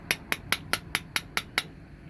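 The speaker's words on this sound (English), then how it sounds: "We just tap that down with a pair of pliers" A cast lead carp fishing weight tapped with a pair of pliers: eight sharp, evenly spaced metallic taps in quick succession, close and clear, with no talk.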